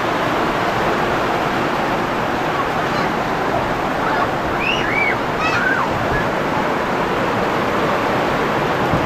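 Heavy typhoon rain pours steadily as a dense, loud, continuous hiss, with faint chirping sounds briefly rising over it.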